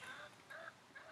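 Backyard chickens kept close by make soft, faint clucks and warbling calls in three short bursts against quiet outdoor ambience.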